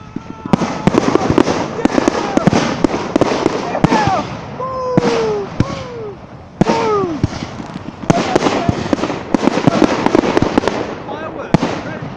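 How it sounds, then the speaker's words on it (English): New Year's Eve fireworks bursting in a dense, continuous barrage of sharp pops and booms, some whistling rockets rising between them, with people talking over the noise. "Fireworks, red and green fireworks."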